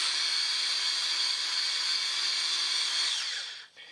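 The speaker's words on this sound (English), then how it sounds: "you can see that the drill's wanting to bog down on them heavier scratches" A loud, steady whine of a power drill polishing out heavy scratches runs continuously, then its pitch sags and it winds down near the end as it bogs under load.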